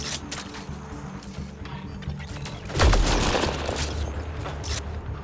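Gunfire rings out in the video game Mass Effect Andromeda, with a loud burst of shots and an impact partway through over a busy background of game effects.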